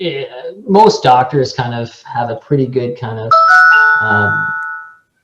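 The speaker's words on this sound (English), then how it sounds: "sorry, that's just my phone." A mobile phone rings with a bright chiming tone during a podcast about medical school, sounding over and just after a man's speech before cutting off.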